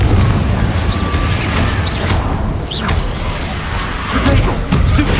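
Rumbling blasts from the Confringo spell in Hogwarts Legacy, a dense run of loud booms and whooshing bursts layered over continuous low-end rumble, with brief whistling streaks overhead.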